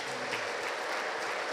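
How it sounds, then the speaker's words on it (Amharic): A church congregation's applause and ululation, a brief, dense burst of clapping and shrill trilling voices that fills the whole moment evenly. "እስኪ እልልታና ጭብጨባ።"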